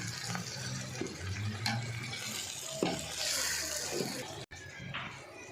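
Tomatoes and masala being stirred and sautéed in a pan for mutton biryani, with a close, continuous sizzle broken by scraping spoon strokes and soft clatter against the pan.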